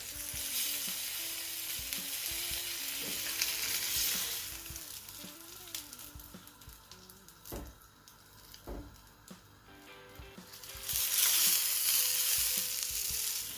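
Feta saganaki cheese frying in a pan, a loud, steady close-up sizzle that swells and eases with occasional stirring scrapes and pops, with no voices.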